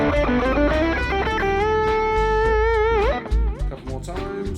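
An electric guitar plays a blues scale line over a backing track, sustained notes and a bent pitch rising above drums and bass, loud and clear with a slightly distorted tone.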